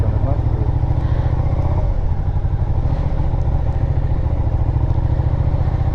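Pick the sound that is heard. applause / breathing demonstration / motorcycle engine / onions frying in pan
motorcycle engine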